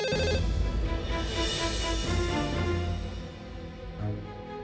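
A telephone rings loudly and continuously with a dense trilling tone, set within a Hindi television drama scene. No one speaks over it.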